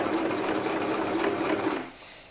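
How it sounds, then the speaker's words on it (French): A sewing machine stitches stretchy elastic fabric for a face mask, a steady close mechanical whir that runs continuously for about two seconds, then stops, leaving a quieter tail. "Si vous sentez que la machine elle a du mal à avancer, vous accompagnez bien le tissu comme ça vers l'arrière."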